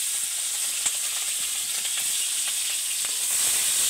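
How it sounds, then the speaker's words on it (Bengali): Shrimp frying in hot oil in a wok, giving a steady close sizzle with scattered crackles and pops throughout. "চিংড়ি মাছগুলো আমি ভালো করে ভেজে নেবো।"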